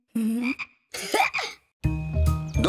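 Cartoon frog croaks in a children's animated show, three short separate calls, each a buzzy, tonal croak, close and clear with brief silences between them.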